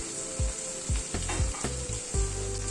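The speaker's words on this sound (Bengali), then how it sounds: "আরো প্রায় 2-3 মিনিট একটু মাছগুলো মশলার সাথে নাড়াচাড়া করে নিলাম।" Rui fish pieces frying in a pan with spices, a loud continuous sizzle broken by several scraping strokes of a spatula as the fish is stirred and turned, close up and without talk.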